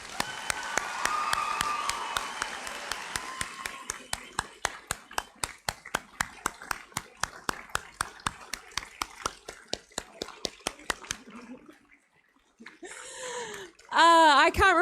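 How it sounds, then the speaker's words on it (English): An audience at a Class of 2021 graduation ceremony claps for the graduating cohort, starting as a scattered crowd round that thins into steady, rhythmic unison claps before fading, followed by brief speech. "Please give one last round of applause to this amazing cohort of young adults."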